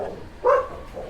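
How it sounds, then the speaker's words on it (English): A single short dog bark rings out at moderate distance on a quiet residential street above Los Altos de Veracruz, Sutiava, Leon, Nicaragua, with faint background ambience around it. "apparently there's dogs"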